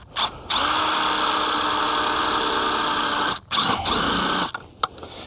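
A power drill drives one-inch screws into a nine-inch plastic catch basin for a French drain, giving two long, loud whirring runs with a brief stop between them, then a short final burst.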